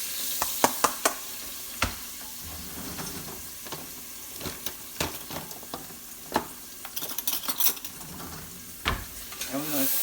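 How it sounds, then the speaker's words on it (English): Vegetables sizzle and crackle in a hot pan, with scattered scraping and clacking as they are stirred around, close up. "So we'll put the vegetables in, let them fry up a little bit."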